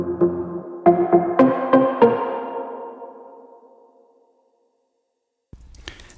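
A synth lead plays a short run of plucky, bell-like notes that ring out and decay into silence, followed by a brief burst of noise at the end.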